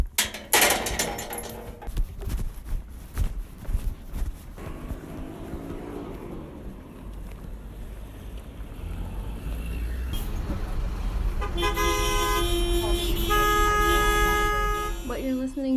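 A morning metro commute in Chile, from Valparaíso, fills the space with rattling clatter, a rising rumble of the moving train and horn-like tones near the end, with voices mixed in.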